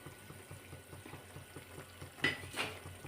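Upma mixture is stirred in a pot to keep lumps from forming, soft rhythmic scraping strokes close by with a faint bubbling simmer and two brighter metallic clinks near the end.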